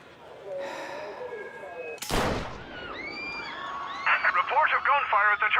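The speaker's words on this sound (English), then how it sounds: "Reports of gunfire at the Turnbull rally." A single sharp, loud gunshot cracks out at the Turnbull political rally in the Mafia: Definitive Edition video game, with voices and gasps before it and a burst of excited crowd voices afterward.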